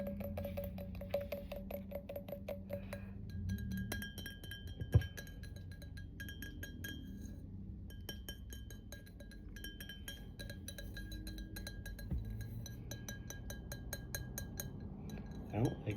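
Glass items are handled and gently clinked for ASMR, producing many small, bright, ringing taps close to the microphone, with a few louder knocks scattered throughout.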